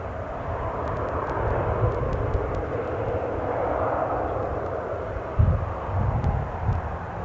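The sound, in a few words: airplane departing from Newcastle airport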